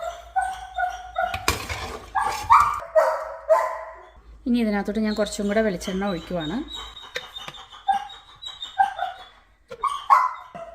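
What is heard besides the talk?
puppy barking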